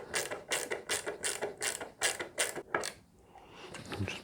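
A small screw being driven into the bridge of a handmade tenor ukulele, heard as a close, even run of about eight ratcheting clicks about half a second apart, then a brief pause and softer handling.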